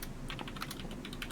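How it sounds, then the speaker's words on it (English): Computer keyboard typing comes in a quick burst of crisp, irregular key clicks that are close and clear, with no talking over them. "I hear the typing on the other computer."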